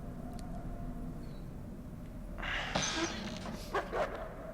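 A wolf in the horror video game Until Dawn whimpers and yips in short, high, whiny bursts over a low game ambience, with a few sharper cries near the end.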